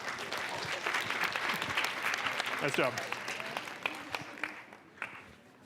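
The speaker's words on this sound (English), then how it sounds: "Round of applause for that." Audience applause at a live science talk, a steady crowd clapping that fills the clip, with a voice briefly speaking over it before it fades.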